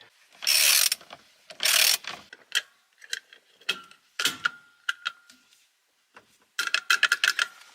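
Bursts of metallic ratcheting clicks while fitting a car steering wheel come in short clusters, close and crisp, separated by quiet pauses, with a rapid run of clicks near the end.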